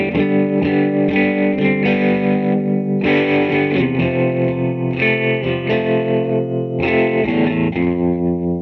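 Fender Stratocaster electric guitar played through an EarthQuaker Devices reverb with a light wash, ringing sustained chords in steady phrases, loud and close with no voice.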